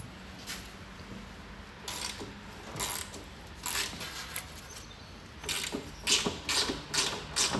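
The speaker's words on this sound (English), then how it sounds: "I'll just grab a deep socket and we'll do the same with the other nut the other end." A deep socket ratchet clicks in irregular short bursts as it turns a nut on a Classic Mini rear subframe, close but fairly soft, with no voices.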